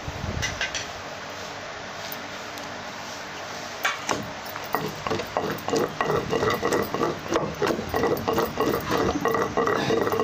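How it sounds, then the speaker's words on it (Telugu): Gongura (sorrel) leaves tipped into a pan and stirred: a quiet start, then steady rhythmic scraping and light sizzling strokes repeating briskly and close up. "ఇప్పుడు గోంగూర వేసుకోవాలి"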